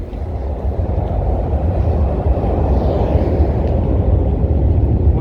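A train rumbles steadily past nearby in central Stockholm, Sweden, a loud continuous low roar of wheels and carriages with no voices.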